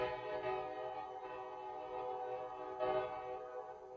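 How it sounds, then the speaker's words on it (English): Mountain train passing behind a house: a steady, tonal horn-like drone with a rumbling undertone that swells again near the end, heard moderately loud with no talk over it. "Sorry, the train's going by."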